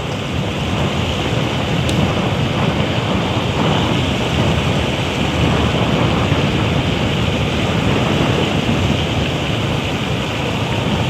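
Sudden heavy rain pours down on a street in Karachi, a dense, loud, unbroken roar of falling water lasting throughout with no voices.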